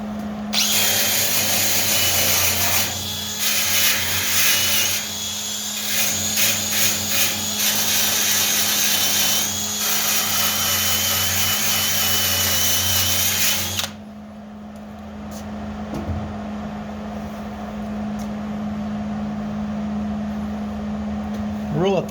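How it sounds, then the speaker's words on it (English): A wire wheel on a power tool cleans sheet metal on a Ford F250 under restoration, whining loudly and steadily for about fourteen seconds before stopping, leaving a quieter workshop hum. "And then I'm taking the wire wheel and I'm just kind of cleaning this up so I can see where it was."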